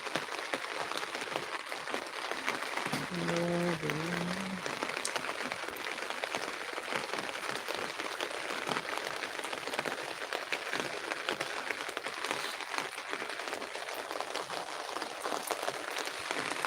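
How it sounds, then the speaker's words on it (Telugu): Heavy downpour in Tirupati pours steadily and without pause, a dense hiss of drops drumming on surfaces, with a brief faint tonal sound early on. "వర్షం అయితే ఎడతెరపు లేకుండా వస్తుంది"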